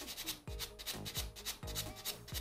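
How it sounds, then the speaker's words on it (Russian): Coarse nail buffer rubbed across a single natural nail during a manicure, making close, scratchy strokes in a steady back-and-forth rhythm, roughly four sweeps, with no talking. "Крупным бафиком я зачищаю."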